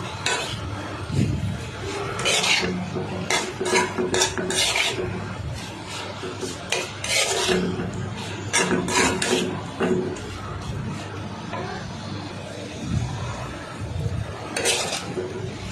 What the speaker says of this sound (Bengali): তারপর করলাগুলো পেঁয়াজের সাথে ভালোভাবে নেড়ে নেব।